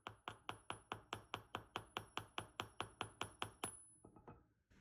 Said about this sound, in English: I am just going to hammer the loop at the top there with my chasing hammer